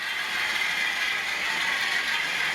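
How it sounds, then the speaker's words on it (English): A Bachmann Class 47 diesel model train pulls chalk wagons and a brake tender through a points crossover, giving a steady, close mechanical whirring and clicking rattle that holds even throughout. "here you see it with the diesel brake tender pulling Bachmann chalk wagons through our points crossover"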